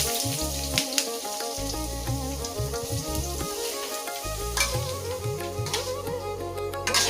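Ash gourd and green chillies fry in hot oil for a Bengali chal kumro chhechki, giving a steady sizzle under background music, with stirring noises now and then.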